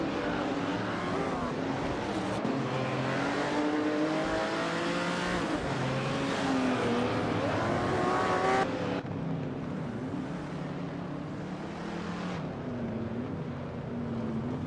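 Several race cars run on a track in a racing video game, with overlapping engine whines rising and falling in pitch and a steady loud mechanical drone throughout.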